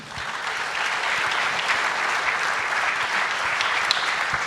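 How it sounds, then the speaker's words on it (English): A theatre audience applauds the speakers after a panel dialogue on democracy, sustained dense clapping from a large crowd that holds steady throughout. "A huge round of applause for our speakers"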